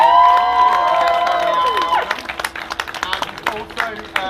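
A large outdoor rally crowd at a protest in Oldham bursts into applause and cheers, loud clapping spreading after a voice trails off, with scattered whoops and shouts rising through the din.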